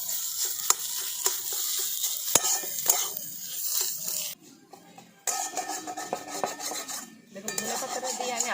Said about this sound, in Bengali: দেখুন, ধনে পাতাটা দিয়ে আমি আলুর সঙ্গে খুব ভালো করে নাড়াচাড়া করে নিয়েছি।